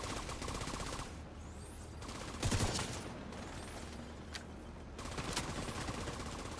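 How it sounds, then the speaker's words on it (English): Burst rifle firing in a video game: quiet, distant volleys of rapid shots repeat over a steady low background, with a sharper cluster of shots in the middle. "I don't like the burst fire myself. But it's hitting nice."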